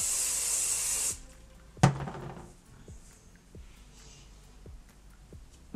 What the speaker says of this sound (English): This is my favorite hairspray.